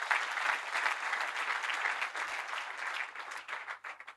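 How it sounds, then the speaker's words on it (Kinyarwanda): A church congregation at a Sunday service bursts into dense, sustained applause, many hands clapping together at fairly close range, tapering slightly toward the end. "Ndagira ngo mubampera amashyi menshi"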